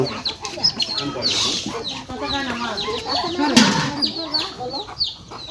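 Several chickens being fed cluck and squawk close by in a busy farmyard, overlapping calls rising and falling throughout.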